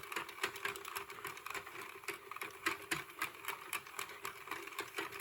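A Sentro knitting machine is cranked slowly with its own yarn, producing a quiet, steady patter of rapid plastic clicks and ticks as each stitch is caught, close by and without speech.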